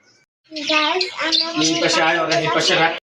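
Young dove chicks give a rapid series of close, high, squeaky chirps and squawks while being handled by hand.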